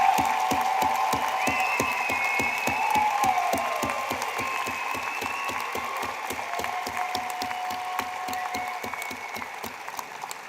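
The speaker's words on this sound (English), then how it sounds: "could we all have a warm round of applause for what they have done for our" At a 2024 convocation ceremony in Durham, Greater Toronto Area, the audience applauds in a steady, evenly spaced beat of claps. A faint tonal hum runs underneath, and the clapping eases slightly in loudness toward the end.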